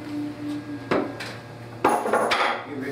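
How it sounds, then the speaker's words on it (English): A hammer taps tapered pieces into place on a cart, giving three distinct metallic knocks spaced about a second apart over a steady background hum. "put a little piece of plastic or something and hammer it in place so you don't get any hammer marks on them"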